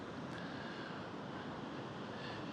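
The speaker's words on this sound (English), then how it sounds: "Even the sounds of the waves coming in gently as they are now is so attractive to every single human being who hears it." Ocean waves coming in gently on the shore, a faint, continuous soft wash of surf with no voices, steady and unbroken throughout.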